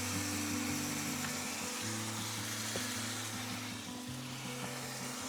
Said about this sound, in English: Going to start to deglaze that pan.